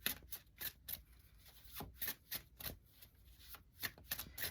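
Tarot cards shuffled in steady bursts, a run of crisp riffling flicks and soft slaps repeating close to the microphone, with no talking over them.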